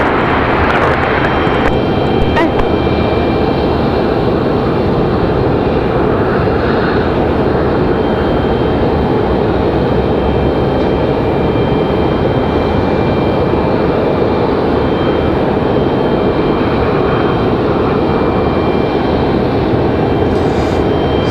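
A United airliner climbing out at Raleigh-Durham International airport, its steady engine roar loud and sustained throughout with no talk over it.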